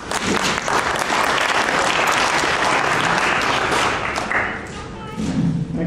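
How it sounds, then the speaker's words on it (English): Audience applause fills a lecture hall at a museum-themed talk, a dense steady clapping that holds loud for about four seconds before thinning out, with a few voices surfacing near the end. "Normally don't get two rounds of applause in one day"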